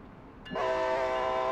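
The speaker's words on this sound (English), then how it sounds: "And there's Westchester Avenue and the 6th train in the distance." A New York City 6 subway train near Westchester Avenue in Train Sim World gives a sudden, sustained, horn-like tone that starts half a second in and holds steady to the end.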